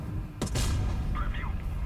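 A single heavy tank cannon boom in the video game Tanks Blitz, sharp and loud, followed by a rolling low rumble as a voice speaks over it.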